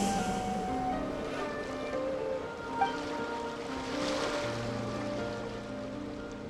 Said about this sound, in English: Go to where you can hear the sound of the waves.